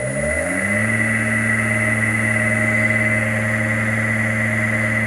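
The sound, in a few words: vintage machine motor running in reverse on 3-phase inverter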